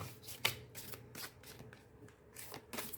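Tarot cards being shuffled by hand in quick bursts of riffling and flicking, close and fairly quiet, with brief pauses between strokes and no talking.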